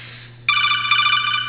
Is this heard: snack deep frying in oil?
no